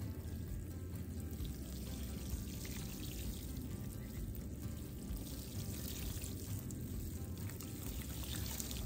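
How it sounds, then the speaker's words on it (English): Water poured gently onto pre-moistened potting soil to settle freshly sown squash seeds, a faint continuous soft pour and trickle with background hiss, no voices. "we just need to wet the soil down just a little bit to settle the seeds."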